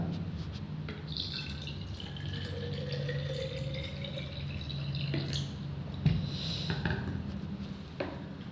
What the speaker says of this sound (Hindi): इसमें मैं इस पानी को डालता हूं और आपको दिखाता हूं क्या चेंजिंग होता है।